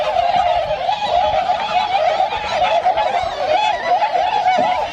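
A flock of wintering Bewick's swans calls at the Slimbridge wetland reserve, a dense and continuous chorus of honking, yelping voices that overlap steadily at moderate loudness for the whole stretch.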